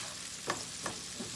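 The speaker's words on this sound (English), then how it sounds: "I'm going to let these onions cook just a little bit" Onions cook in a pan for stir-fried green beans: a faint, steady sizzle with two brief scrapes of stirring, no voices.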